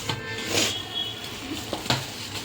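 Menduvada batter made from leftover cooked rice with added semolina being stirred and mixed in a bowl, giving soft, irregular scraping and squelching strokes close by, with a few sharper knocks.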